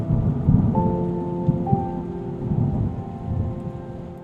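A storm sound effect: steady rain on a surface with low rumbling thunder and wind, plus a few faint tonal chirps partway through, continuous and fairly loud with no talk.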